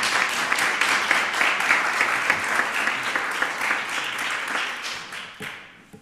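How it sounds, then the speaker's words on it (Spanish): Sustained audience applause at an awards ceremony in Murcia, many hands clapping in a dense, steady roar that holds for several seconds before thinning out and fading at the end. "Así que pido un fuerte aplauso por favor para Juanjo González"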